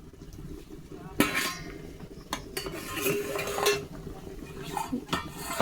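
A lid is set over a pan of okra and tilapia fish frying together. Sharp metallic clanks and rattles ring out over a low steady sizzle, with a few lighter clinks afterward.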